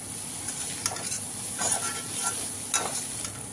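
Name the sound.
khoya (mawa) being stirred while warming in a pan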